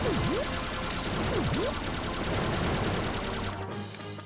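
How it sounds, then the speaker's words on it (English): Cannon shooting in the Pac-Man World Re-PAC Galaxian stage, a rapid continuous stream of retro electronic shots with swooping blips overhead, loud and steady before thinning out at the end. "Press circle to fire cannon, hold circle to shoot."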